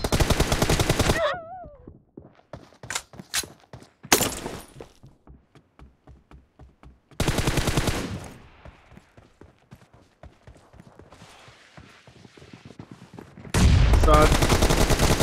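Video-game gunfire in a team shooter match: bursts of rapid automatic shots and single cracks separated by quieter gaps, loud and close, with a few short volleys at the start and end.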